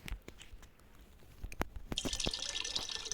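Water pours into a water bottle in a survival crafting video game: a few soft drips and clicks, then a bright continuous trickling pour in the last second or so, close and fairly quiet.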